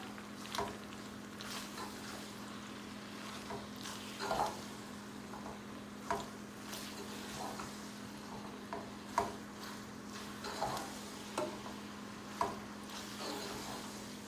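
Boiled noodles are tossed and stirred in a pan at home, giving soft wet squishes and scraping clicks over a faint steady sizzle and hum, with no one talking.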